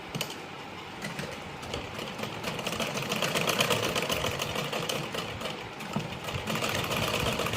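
A sewing machine stitches another seam line along a blouse strip, giving a continuous, even mechanical whir throughout at moderate loudness.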